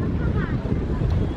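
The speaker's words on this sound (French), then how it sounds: "Le vent se lève beaucoup." Wind gusting across a street in Seoul's Samcheong-dong neighbourhood, a steady broadband rush buffeting the microphone with no pauses, loud and close throughout.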